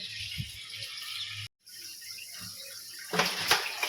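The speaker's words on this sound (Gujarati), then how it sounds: "તો પહેલાં પાણી ભરી લઈએ" Running tap water rushes steadily, briefly cutting out, then returns louder and splashier as a container fills.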